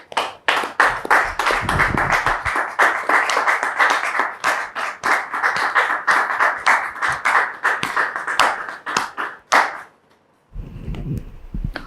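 Audience applause greets a guest arriving on a French-language talk show, sharp, loud clapping with a distinct rhythm that runs for about ten seconds, then stops as a voice starts speaking.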